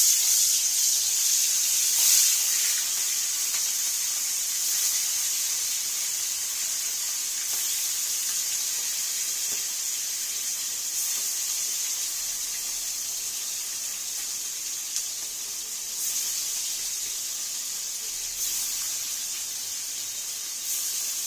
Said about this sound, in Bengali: তো মাছগুলো ভাজা হোক